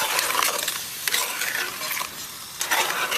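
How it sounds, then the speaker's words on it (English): Marinated seasoned lobster being stirred into curry in a pot, a continuous close scraping and sizzling wash with faint rhythmic clatter of the spoon. "Give it a quick stir because we want to really blend in all those flavors."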